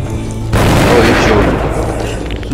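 Gunfire in the zombie survival video game Dead Age, a sudden loud booming blast that rings out and decays over about two seconds.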